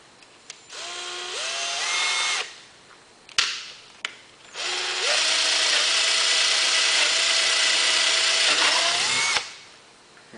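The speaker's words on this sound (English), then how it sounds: "So I'm going to drill that hole right now." A power drill boring a 3/16-inch hole whirs loudly in two bursts, the second one long and steady, with brief pauses and clicks between runs.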